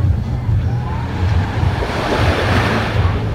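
Sea waves rolling in at night at El Nido, a continuous low rushing surf close by with some wind buffeting the microphone, with no voices over it.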